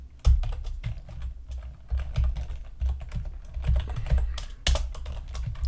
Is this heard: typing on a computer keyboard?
yes